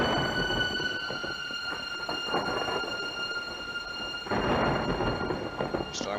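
Stormy weather in the video game Lighthouse: The Dark Being, a steady roar of wind and rain with deep rumbling thunder swelling near the end, over faint sustained musical tones.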